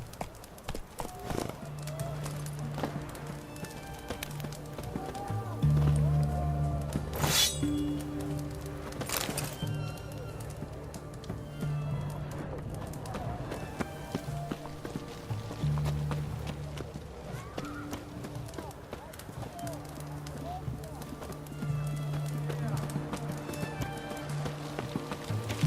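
Roach, the horse in The Witcher 3, gallops with rhythmic hoofbeats under game music and ambient sounds, with a brief whinny and voices occasionally speaking over it.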